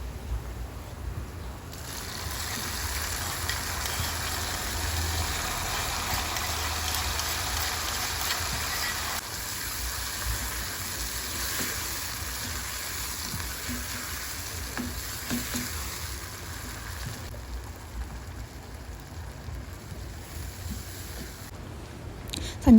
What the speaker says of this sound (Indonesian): ini bawang merah, bawang putih kita goreng hingga kecoklatan, baru kita masukkan sambal yang kita udah ulek tadi